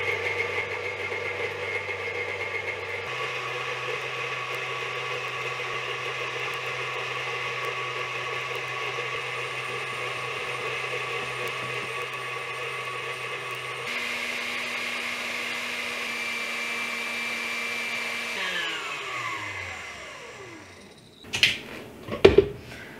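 An electric mixer whips egg whites as a steady motor whir, stepping up in pitch from low to high speed, then winding down before a few clattering knocks at the end.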